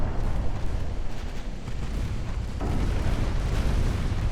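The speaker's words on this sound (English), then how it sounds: "Main guns, secondary guns, open fire." Warship main and secondary guns firing in an Ultimate Admiral Dreadnoughts naval battle, a dense, continuous rumble of overlapping booms and blasts that stays loud throughout without clear pauses.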